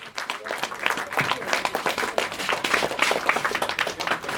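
Audience applause at a stage lamp-lighting ceremony, with dense, even clapping that holds steady and fairly distant for several seconds and a faint murmur of voices underneath.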